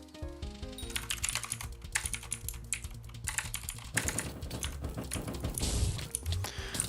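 Rapid, uneven clatter of computer keyboard keys during a Hypixel SkyBlock game session, close and crisp, with bursts of fast typing and short pauses throughout.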